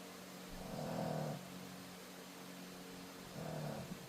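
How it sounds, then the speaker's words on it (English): Soft, low snoring breaths from a dog, two slow rumbling inhales separated by a quiet pause, faint and close. "He's gone from barking now to snoring."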